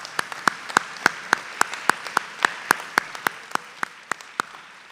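Sparse, scattered clapping from a convocation audience, individual sharp claps spaced irregularly rather than a dense roar, moderately close and steady for about five seconds with no talking.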